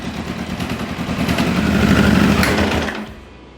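A Kawasaki GPZ900R motorcycle engine catches and runs on choke, a loud, steady, buzzy idle with a fast even pulse that swells slightly before dropping off near the end.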